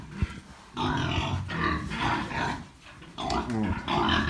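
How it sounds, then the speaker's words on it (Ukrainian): On a pig farm, a dog lets out several rough, growling barks in separate bursts, each lasting under a second, heard fairly close with short pauses between them. "ти чого гавкаєш?"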